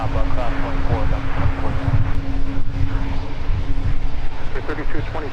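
A plane departs Minneapolis–St. Paul airport with a continuous loud jet-engine roar and a steady hum, while radio voices talk over it.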